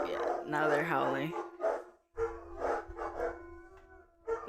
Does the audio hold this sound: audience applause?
no